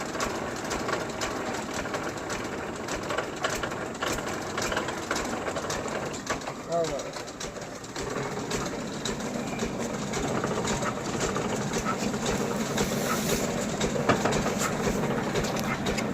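A borewell water pump motor runs at night at half past three, a steady mechanical drone that continues throughout while someone talks over it nearby.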